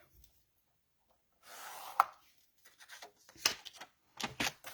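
Pencil strokes marking a paper layer for a rocker card before cutting: faint, scratchy rubbing in a few short bursts separated by quiet gaps, close by and alone.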